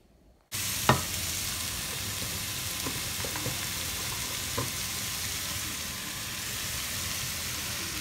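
Chinese noodles with carrots, onions, Chinese cabbage and leek fry in a pan with a steady, loud sizzle that starts abruptly, broken by a few clinks of stirring.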